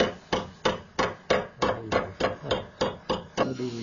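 A hammer strikes metal in a steady rhythm, about eleven sharp taps evenly spaced, fairly close, with a faint hum beneath and no talking, during rust hole repair on a 1968 Ford Mustang coupe.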